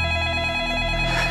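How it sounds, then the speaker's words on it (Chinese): A telephone rings in a drama scene, its steady electronic ringing tone repeating close and loud with no talk over it. "我给你接个电话。"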